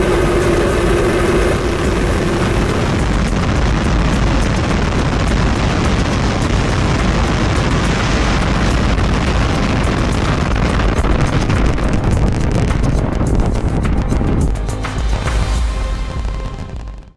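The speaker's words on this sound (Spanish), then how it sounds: "10, 9, 8, 7, 6, 5, 4, 3, 2, 1. We have liftoff." A SpaceX rocket liftoff roars as a dense, continuous broadband rumble, loud and unbroken for over fifteen seconds before tapering slightly at the end.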